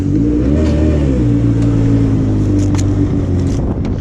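A jet ski engine revs steadily and loudly as the craft accelerates up onto its trailer, a continuous close mid-range drone with rising and falling tone and no voices.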